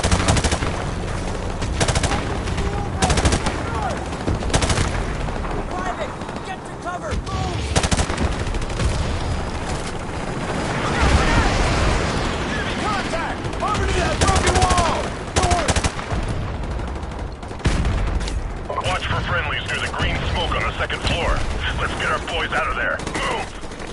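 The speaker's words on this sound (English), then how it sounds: "Mortar fire! Incoming!" Mortar blasts and rapid gunfire from a PS4 military shooter game, dense and continuous bursts of shots and explosions with occasional voices underneath.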